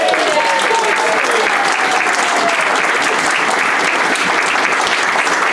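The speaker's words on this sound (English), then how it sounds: "can we have a big round of applause please for Graham and Steve?" Wedding reception guests giving a big round of applause, loud and sustained dense clapping from a room full of people, with cheering voices mixed in early on.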